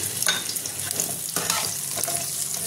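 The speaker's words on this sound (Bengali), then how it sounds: "আলুগুলোটা ভেজে নেবো আমি। কাঁকড়টাও একটু ভেজে নেব হালকা করে।" Potatoes and crab fry in a pan with a dense, steady sizzle close up, punctuated by soft stirring scrapes throughout.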